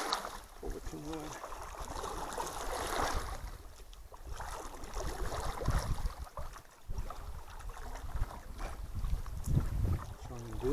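A canoe being pulled in against rocks at Round Lake Wilderness, with knocks and scraping of the hull, water sloshing and wind buffeting the microphone throughout.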